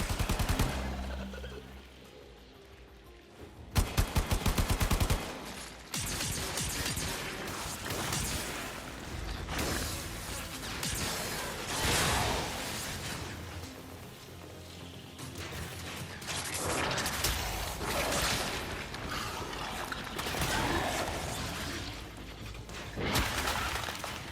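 Rapid weapon fire rings out in the sci-fi shooter Warframe during a fight with hostiles, dense bursts of shots and crashing impacts layered over game music and effects, loud and sustained throughout.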